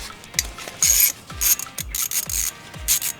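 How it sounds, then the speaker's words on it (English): Ratchet wrench loosening the oil filter cap bolts on a Can-Am Outlander 850 XMR ATV, rapid clicking pawl bursts alternating with quick turning strokes in a steady back-and-forth rhythm, close and loud with no talking. "Time to take the cap off, get the filter out. 3 bolts, I believe."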